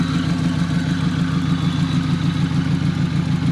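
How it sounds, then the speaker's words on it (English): A car engine knocks as it is revved, a loud, close, steady mechanical clatter with a fast repeating pulse running through the whole stretch. "So it might be knocking because it's not getting fuel and I'm revving it up."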